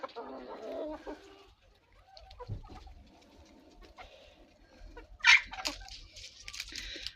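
Bantam chickens in a village yard make sparse, soft clucks and short calls, fairly faint and spread out, with one sharper squawk partway through and a low voice in the background.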